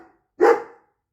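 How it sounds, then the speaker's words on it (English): A single sharp dog bark, close and loud, breaking an otherwise quiet room indoors, with a faint trace of sound just before it. "as you can hear, the dogs are here"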